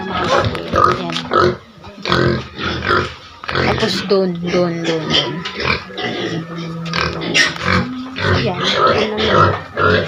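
Several pigs on a grandparents' farm grunt close by at intervals, mixed in with a person talking steadily in Tagalog throughout.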